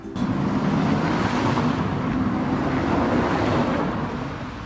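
Cars passing on a road, heard as a steady rushing roar mixed with gusting wind buffeting the microphone, fading slightly toward the end.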